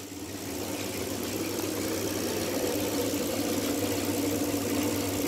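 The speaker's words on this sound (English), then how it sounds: "M8 ECU running on a bench. A bit noisy, we'll turn this off." A Motec M8 ECU bench test rig running at about 900 RPM gives a steady, loud, droning engine-like hum with a low rumble and constant vibration, with no speech.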